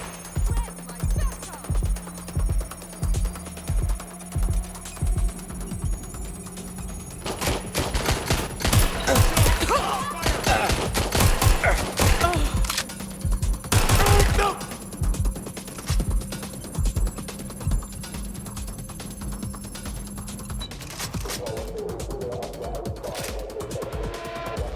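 Gunfire in the video game Watch Dogs Legion, heavy automatic bursts loud in the middle stretch over a pulsing electronic tone and steady background music, with a voice speaking at times.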